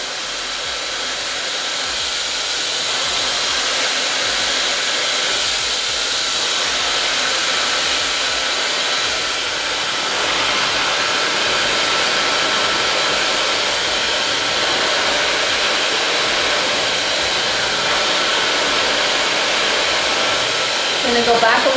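A hair dryer blows steadily and loudly while short hair is blow dried with a brush, a continuous airy roar with slight shifts as the nozzle moves.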